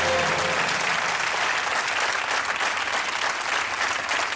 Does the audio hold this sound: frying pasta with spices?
no